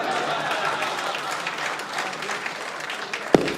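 An audience applauds steadily, a dense wash of clapping that carries on throughout, with one sharper thump near the end.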